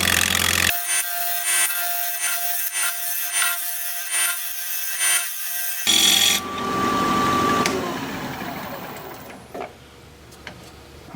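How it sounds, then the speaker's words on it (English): A 5/8 inch bowl gouge cutting a black locust bowl on a lathe spinning at 1300 RPM, heard as a steady loud rubbing hiss with rhythmic tearing pulses, then a rougher scraping cut that fades toward the end. "we're going to be turning at 1300 RPM, 5/8 inch bowl gouge"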